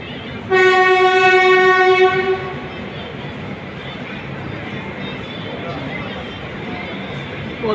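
Passenger train running through Podanur on the Palakkad to Salem route, its loud horn blaring near for about two seconds before giving way to a steady rumble of the moving carriages.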